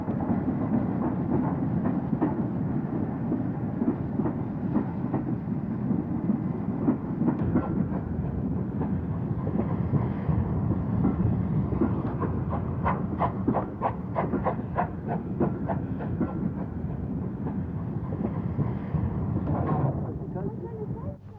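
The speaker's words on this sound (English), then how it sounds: "And rebuilt Battle of Britain class locomotive number 34071, which formerly carried the name 601 Squadron." Rebuilt Battle of Britain class steam locomotive 34071 passing, a steady loud rumble and roar of wheels and exhaust sustained throughout, with rhythmic clattering beats building toward the end before the sound fades.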